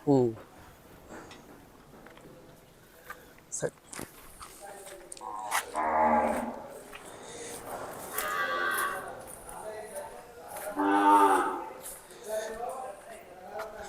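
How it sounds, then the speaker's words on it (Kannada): A Hallikar calf lets out several drawn-out moos, loud and close, while people talk nearby at a cattle shelter. "ಇದು ಹಳ್ಳಿ ಕರು ಹಾ ಇದು ಹಳ್ಳಿ ಕರು"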